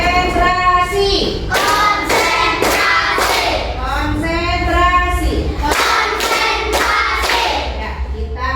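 A classroom of children plays the tepuk TikTok clapping game, chanting in unison while striking their hands in loud, rhythmic bursts, with voices and claps interleaved close by.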